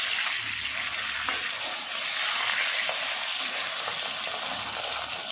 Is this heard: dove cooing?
no